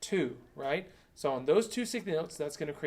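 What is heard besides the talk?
No distinct noise like a dog, phone or traffic.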